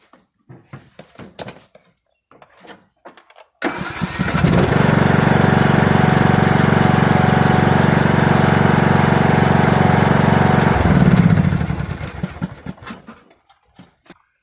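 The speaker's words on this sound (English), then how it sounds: "And then we'll jump it and see if it starts." A vehicle engine jump-started with a LENERCOM 4-in-1 jump starter catches and roars into a loud, steady idle for about seven seconds before shutting off, with soft handling clicks before and after.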